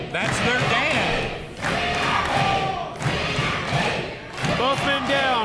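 A wrestling event crowd cheers and roars in waves, with loud surges and brief dips, the noise close and dense, with a commentator talking over it.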